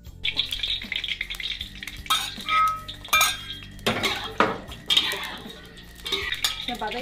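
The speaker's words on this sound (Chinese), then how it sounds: "先把这个配菜炒了，放了菜籽油， 还有腊肉" A spatula clinks and scrapes against a wok while cured pork, carrots, corn and vegetables stir-fry in rapeseed oil. Irregular metallic knocks ride over a soft, continuous sizzle.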